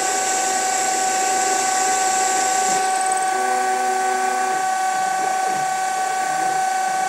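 A Denford Orac CNC lathe turns fins on a V8 cylinder with a steady, loud mechanical whine and hum of the spindle and gears, continuous and close throughout.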